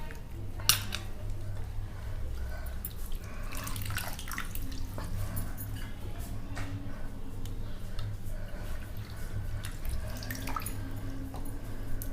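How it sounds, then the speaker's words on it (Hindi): Dried bombil fish being washed and rubbed by hand in water, with close, irregular splashes, drips and light clinks of a vessel over a steady low kitchen hum. "अच्छे से हाथों से अच्छे से मसल के उसे धोएंगे"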